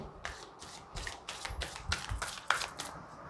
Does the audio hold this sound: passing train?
no